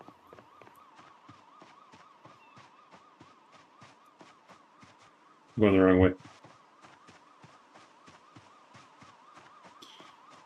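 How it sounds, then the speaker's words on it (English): A new-style car alarm in the zombie survival game Project Zomboid at a gas station in Echo Creek, a steady wavering electronic tone with rapid pulsing that runs throughout, with a brief loud burst partway through and a voice speaking over it. "It's new car alarm."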